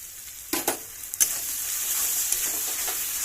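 Tomato paste goes into a pan of onion and ginger-garlic paste with bay leaves, giving a couple of sharp stirring scrapes and then a steady, close sizzle.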